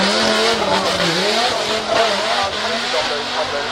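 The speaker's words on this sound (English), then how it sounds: "you can see them spinning around while she's doing a donut" Drift car tires squeal continuously as the car spins a donut at the Festival of Speed, with a loud, wavering screech over a revving engine, close and sustained throughout.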